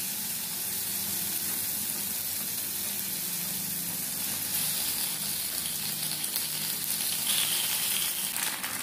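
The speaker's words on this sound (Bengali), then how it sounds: "এখন আমি এখানে পাস্তাটা দিয়ে দেব।" Pasta fries in a pan with onion, tomato and chilli, giving an even, dense hiss of sizzling that holds steady throughout without speech.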